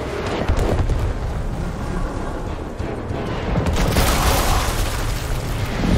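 Deep booming explosions and rumbling from the video game Gears Tactics, loud and sustained, with a bigger blast partway through.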